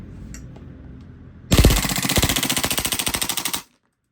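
A WE SCAR MK16 gas blowback airsoft rifle rattles off a full-auto burst of about two seconds, a rapid even string of sharp clattering shots, close and loud, then stops abruptly.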